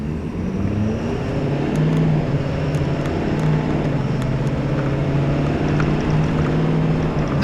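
A 2013 Ford F-350 Super Duty truck engine pulls steadily under everyday acceleration, a loud, continuous low drone that holds close and constant throughout with no talk.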